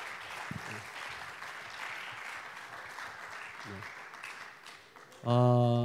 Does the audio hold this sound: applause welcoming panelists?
yes